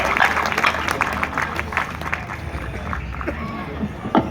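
An audience at a patriotic youth event in India claps for a speaker being welcomed to the stage. Brisk, crowded clapping opens and thins within a few seconds, mixed with voices and crowd murmur.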